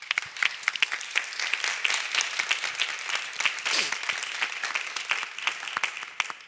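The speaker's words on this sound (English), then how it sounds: "Give him a round of applause." An awards audience at the Young Global Changers Recoupling Awards gives sustained applause for a nominee, a dense patter of many hands clapping at moderate volume, with a faint voice briefly audible underneath.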